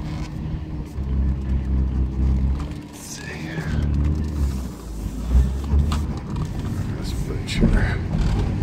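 A 1991 Mitsubishi 3000GT VR4 on the road, heard from inside: a steady, loud low rumble of engine and road noise with occasional creaks and rattles, while someone talks.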